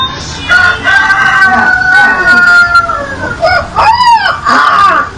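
A person imitates a rooster crowing with a stretched, wavering vocal call, followed by a second shorter crow-like cry, loud and close.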